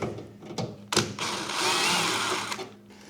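A cordless power screwdriver whirs steadily for a couple of seconds, backing out small Phillips screws from the metal shell of a Breville Smart Oven Air Fryer Pro, framed by a few close clicks and knocks.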